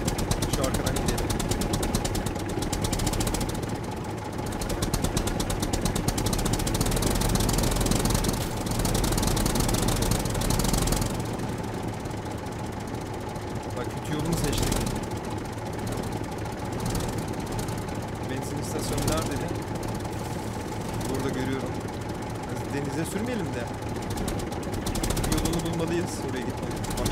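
Tractor engine running steadily in the survival video game SCUM, a loud continuous droning hum with rattling, sitting under ongoing talk from a player for the whole stretch.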